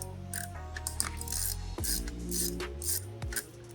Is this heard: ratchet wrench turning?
yes